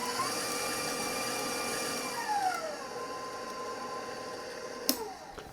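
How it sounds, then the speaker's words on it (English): An electric mixer whisks vanilla buttercream frosting with heavy cream added, giving a steady close whine with pitch that slides down and back, then a sharp knock near the end. "And basically you just let it go whisking away."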